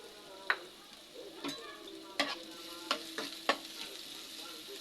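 Chopped onions fry in hot white oil in a wok with a steady close sizzle, and a utensil stirs and clanks against the pan several times at irregular intervals.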